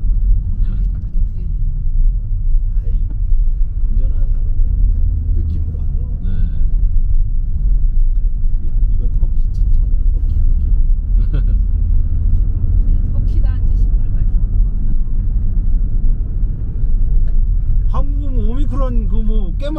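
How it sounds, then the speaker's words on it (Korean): Heavy cargo trucks stream along a mountain road between Kazbegi and Tbilisi, Georgia, in early December, giving a steady low rumble of passing engines throughout while people talk over it. "화물차들 엄청나게 들어오네요. 지금 막 어마무시하게 들어오네요."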